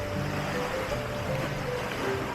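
Big sea waves wash onto the shore at a beach resort, a steady, faint rushing surf that holds constant throughout, with a low background hum and no speech.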